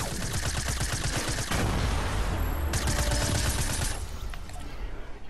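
SMG gunfire in Fortnite forms a dense, loud, continuous stream of rapid shots with a brief shift partway through, over busy game noise.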